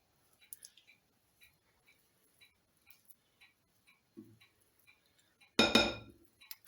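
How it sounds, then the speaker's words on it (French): Spoon tapped and scraped clean against a bowl while making pumpkin biscuits, a series of light, evenly spaced clinks with a brief low knock and one louder scraping clatter near the end, quiet and close, no talking. "Je nettoie ma cuillère."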